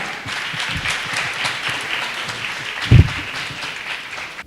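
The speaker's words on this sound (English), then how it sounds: "can I please get a round of applause for Tariq Khan?" An audience at a community event breaks into sustained applause for a guest speaker, a dense, steady patter of clapping with one louder thump near the end.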